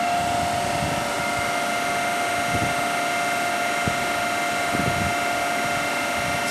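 A DC shunt motor runs steadily with a constant mechanical whir and a clear sustained hum, with a few faint clicks along the way and no talk.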